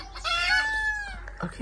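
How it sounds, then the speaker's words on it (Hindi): Young pigeon or turkey chicks give one drawn-out, high wavering call, close by, with faint background noise. "माशाल्लाह सारे प्यारे प्यारे चूजे आ गए"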